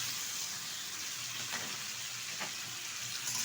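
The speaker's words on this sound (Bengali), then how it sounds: "ভালোভাবে নেড়ে চেড়ে নেব।" Mustard paste, whisked yogurt and sugar are stirred into a hot pan with potol and shrimp, giving a constant sizzle and hiss with a couple of soft utensil scrapes, close up and without speech.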